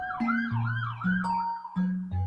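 A wailing emergency siren outside rises and falls repeatedly, sounding somewhat distant and filtered, alongside low sustained synth tones.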